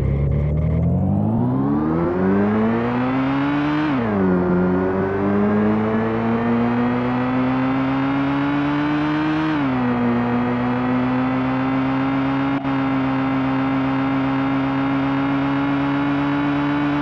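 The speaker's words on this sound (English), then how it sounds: "If we hit play, the AI car will follow the waypoints correctly." An AI-driven car engine in a Unity 3D racing game drones loudly and continuously, its pitch climbing steadily and then dipping sharply twice, like gear changes, before holding a high steady whine.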